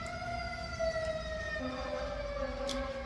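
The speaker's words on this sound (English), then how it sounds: "Here are the sirens again." A wailing emergency siren sweeps slowly in pitch, loud and continuous, with traffic rumble underneath.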